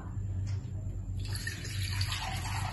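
Water is poured into a simmering vegetable curry made with ground coconut, a fish-curry style dish without fish; a rushing pour begins partway through and keeps going to the end.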